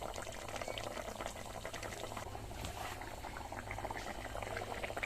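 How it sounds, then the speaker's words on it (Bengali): A light rohu fish curry boils in a pot, a continuous close bubbling and simmering texture at low, even level throughout. "একটু ফুটিয়ে নিয়ে নামিয়ে নেব।"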